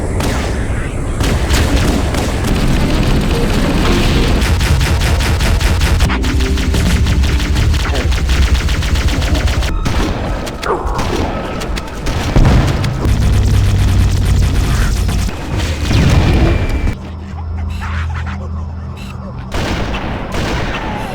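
Dense, continuous combat from Halo: Combat Evolved: loud, rapid gunfire with repeated booming explosions, sustained almost throughout, with a brief lull near the end before more heavy blasts.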